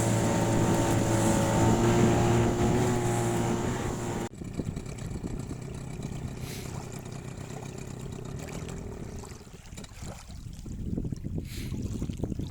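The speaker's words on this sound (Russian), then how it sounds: "Лодка собрана, мотор подвешен." Outboard motor on a motorboat on the Lena river, a loud steady engine drone with hull and water noise that shifts abruptly partway through to a rougher, wind-buffeted running sound.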